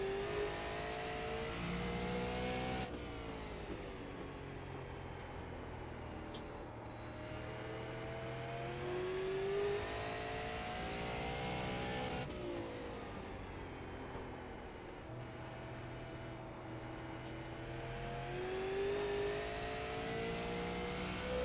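A Super Late Model race car engine in a racing game drones steadily for the whole stretch, with its pitch rising and falling through repeated gear changes and revving, loud and continuous with no talk.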